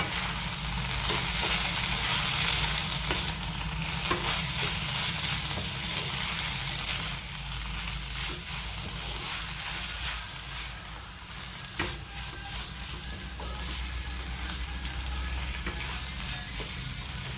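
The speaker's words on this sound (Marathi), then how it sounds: "व्यवस्थित मिक्स करत आहोत" Capsicum fries in a pan while being stirred and mixed, producing a continuous loud sizzle with frequent spoon scrapes and taps, steady and close throughout with no voices.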